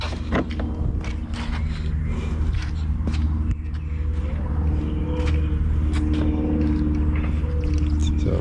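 A 2015 Harley-Davidson Street Glide with a Dancing Hines exhaust rumbles in a continuous deep, throbbing idle, close and loud, with clattery mechanical ticks over it and no talk.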